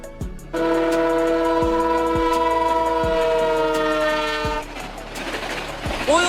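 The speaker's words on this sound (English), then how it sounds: "Oil tanker train. Careful and powerful. This train carries fuel like oil and gas in big round tanks." A freight train of round oil tanker cars rolls by with a sustained, loud multi-tone horn blast for several seconds, steady wheel clatter and periodic rail-joint thumps underneath.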